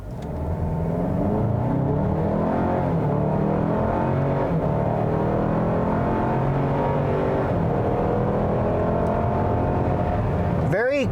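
Steady, loud engine roar building as a 2021 Buick Envision ST SUV accelerates hard, with rising revs and brief shifts from its 9-speed automatic, continuous throughout.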